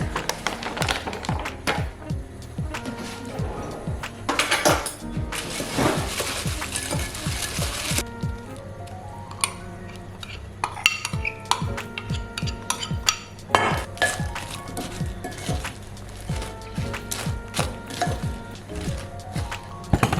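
A utensil scrapes and clinks against a bowl as a protein powder mixture is stirred, with rapid irregular clatter, denser in the first several seconds and then continuing in scattered taps.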